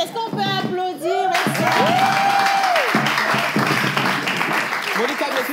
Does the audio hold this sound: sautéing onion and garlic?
no